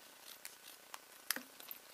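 Scissors snip off small overhanging paper pieces during a star-shaped paper card craft, giving a few faint, sparse clicks and snips spread over a quiet two seconds, with one sharper cut standing out.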